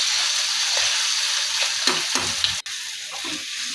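Quick eggplant bhaji is stirred with crushed peanut powder in a frying pan, a soft steady sizzle under a series of close spatula scrapes and taps, with a sharp click and a brief dropout near the end.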